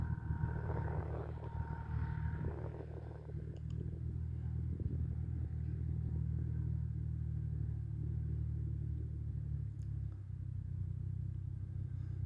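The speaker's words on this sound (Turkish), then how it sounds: "Her taraftan bir traktör ses geliyor" A tractor's steady, low engine rumble drones throughout during wheat sowing, with a brief higher sound early on and no talking.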